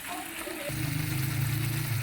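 Water from a half jug poured into a pot of chicken feet cooking in yogurt, a broadband gush that swells into a steady sizzling rush after a quieter start, close and fairly loud with no talk.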